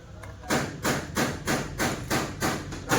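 A piston being tapped down into the bore of a 2020 Hyundai Creta diesel engine during an overhaul, about seven evenly spaced, close, solid knocks in a steady rhythm, with no speech.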